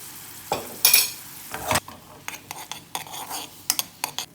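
Deggi mirch chilli hits homemade ghee in a small pan, a brief sizzle mixed with spoon clinks and scraping taps against the metal, arriving in short irregular bursts.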